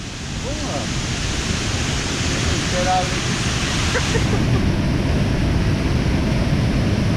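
Waterfall inside a mine cave, a steady loud broadband rush of falling water that fills the whole clip, with faint voices underneath.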